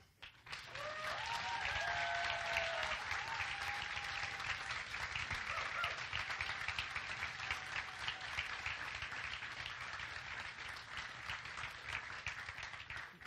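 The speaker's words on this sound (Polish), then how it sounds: "Na początek wielkie brawa." Audience applause at a cabaret jubilee gala, a dense, sustained wash of clapping that swells quickly and holds steady for over ten seconds, with a few faint whistles or cheers early on.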